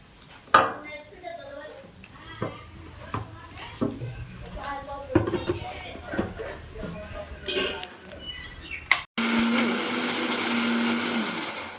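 A kitchen blender whirs as it grinds flower petals with a little water into a paste. The whir starts loud and steady near the end, after a stretch of clatter, taps and a voice talking.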